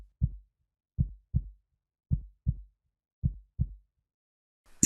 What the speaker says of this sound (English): heartbeat hammering